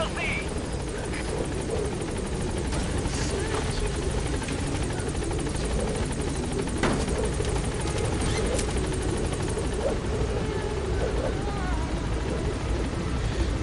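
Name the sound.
helicopter from the video game Metal Gear Solid V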